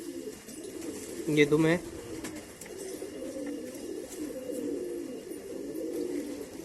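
A pigeon gives one short, close coo over a low background murmur, with someone speaking briefly nearby.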